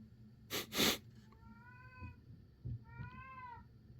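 A house cat meows twice nearby, two drawn-out rising and falling cries, with a couple of soft handling thumps and a brief rustle before them in a quiet room.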